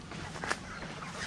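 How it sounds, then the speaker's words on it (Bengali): A few ducks kept in a rooftop poultry shed give a short fowl-like call partway through, set against a steady hiss of background noise. "কয়েকটা হাঁস রাখা আছে এখানে"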